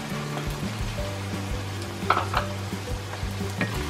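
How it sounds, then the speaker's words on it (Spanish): Chile frying in a pan with onion while cooking rice with tomato and ground meat, a steady close sizzle with clinks and stirring scrapes throughout and no talking. "Vamos a agregarle el chile."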